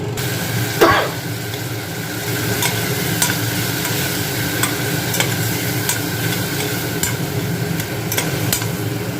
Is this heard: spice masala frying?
yes